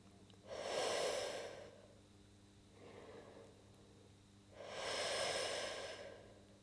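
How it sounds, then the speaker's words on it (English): Two slow, audible breaths during a beginner abdominal workout: a long nasal inhale, then a steady exhale through pursed lips, with a softer breath in between, close and alone without talk. "Inhale through the nose. Exhale through your pursed lip."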